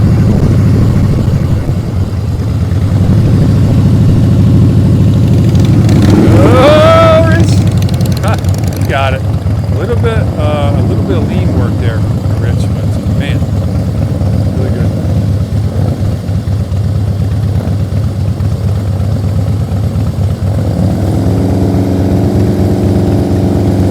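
A motorcycle engine is revved during a riding practice drill, giving a steady mid-pitched idle drone with a louder swelling rev early on, while people talk over it nearby.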